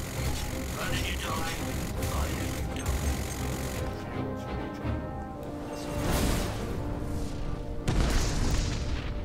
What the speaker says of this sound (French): Là, il a explosé assez tôt.